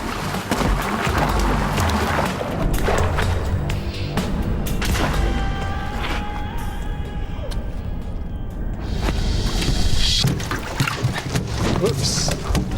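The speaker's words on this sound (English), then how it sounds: "I actually feel the boat being buffeted as they're banging into it" Fish thumping and banging against the hull of a boat in silver-flecked water, with repeated dull knocks and splashes running through the whole stretch and someone talking over them.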